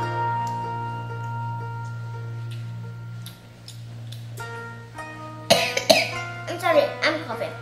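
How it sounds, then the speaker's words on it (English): A few close, sharp coughs break out near the end, over a steady low hum, while someone tastes Halloween gummy candy. "I'm sorry, I'm coughing."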